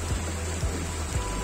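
Rain falls steadily at a safari park with a constant wash of drops and a few dull low thumps, no voices present.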